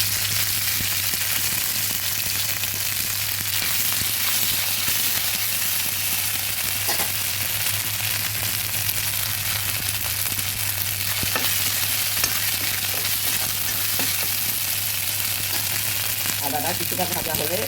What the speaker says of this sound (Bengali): পাঁচফোড়নটা ভালোভাবে নেড়ে দিচ্ছি